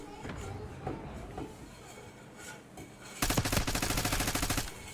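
Gunfire in a shooting video game: a dense, rapid burst of automatic shots starts partway through and carries on steadily over a busy background of game effects and earlier scattered bangs.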